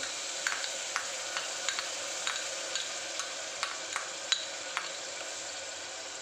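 Onion, garlic and ginger paste sautéing in oil for masala rice: a steady, close sizzle of frying, punctuated by light, regular taps and scrapes of a spoon stirring the pan, with no talking.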